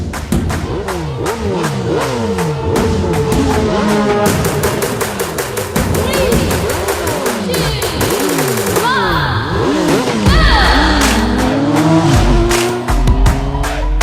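Race cars roar through a movie race scene, with engines repeatedly revving and passing close by in sweeping pitch glides, punctuated by tire squeals and heavy thuds, all loud and layered with music.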